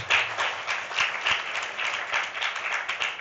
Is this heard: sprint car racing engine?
no